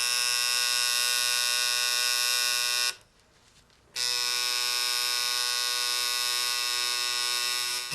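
A tattoo machine runs with a steady high electric buzz during fill-in work, stops for about a second and then starts buzzing again, close and loud with no talking.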